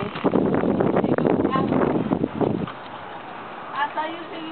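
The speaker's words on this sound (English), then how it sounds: "It's really, really, really windy." Strong wind buffets the microphone outdoors in loud, roaring gusts that cut out partway through, with a voice briefly heard near the end.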